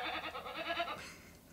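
A goat bleat played through a Google Home Hub smart speaker: one short, quavering bleat lasting about a second, near and fairly faint, alone.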